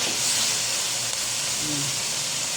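Tomatoes cook in a pan with a steady, close hiss of steam and sizzle that holds at an even level throughout with no voices.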